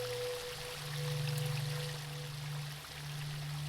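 Water runs steadily in The Thin Silence video game, a continuous pouring stream with a low hum beneath it, moderately loud and unbroken.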